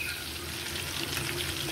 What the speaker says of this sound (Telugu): అడుగును బాగా కొంచెం ఫ్రై అవ్వాలి